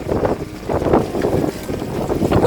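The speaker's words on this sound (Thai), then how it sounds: "ลมแรงมากอ่ะ" Strong gusting wind during a rainstorm at an open rice-field hut in rural Thailand, buffeting the microphone in loud, uneven rushes for a few seconds.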